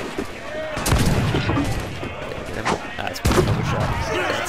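Gunshots ring out in Assassin's Creed IV: Freedom Cry during a plantation raid: a few sharp, loud cracks at irregular intervals over a dense, noisy battle backdrop, with someone talking throughout.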